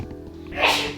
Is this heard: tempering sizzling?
no